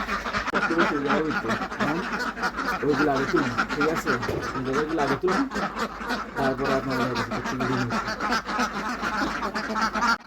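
Farm ducks that lay eggs inside a shelter quack repeatedly at close range in a lively chorus, while a person talks over them for most of the clip.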